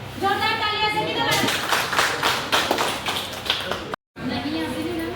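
Applause at a company meeting, with a burst of clapping over lively talk and a voice, briefly cut off near the end before voices resume.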